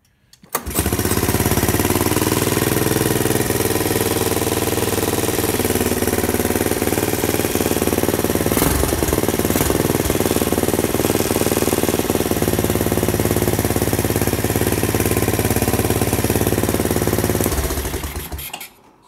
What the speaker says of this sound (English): Since we just troubleshooted how to get spark back, you got a headlight, give her a little pull.